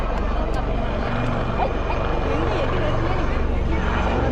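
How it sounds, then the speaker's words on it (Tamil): Steady low rotor and engine rumble of a helicopter nearby during an air show over a beach, a dense continuous drone with faint voices mixed in. "இதே தான் வித்தியாசமா இருக்கு இந்த ஹெலிகாப்டர்"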